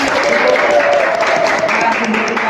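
An audience at a student talk event claps in a loud, close, continuous wash of applause with no talking.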